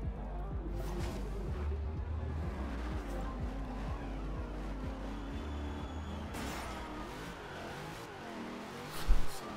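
Game car in Forza Horizon 2 accelerating hard through the gears with wheelspin, the engine climbing in repeated revs beside tire noise and a louder burst near the end, with someone speaking over it.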